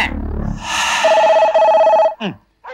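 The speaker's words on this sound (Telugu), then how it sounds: "మధ్యలో టెలిఫోన్ ఒకటి, అటు టెలిఫోన్ ఇటు కుక్కలు ఒకదానికోటి పోటీ పడి అరుస్తున్నాయి" A telephone rings in a film scene with a steady electronic trill that lasts about a second, loud and close. A brief sound follows it, and an earlier noisy stretch is mixed in.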